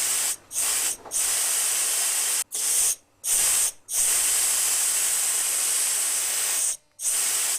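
An aerosol spray paint can hisses in a series of loud, close bursts, some short and some sustained, separated by brief silent gaps.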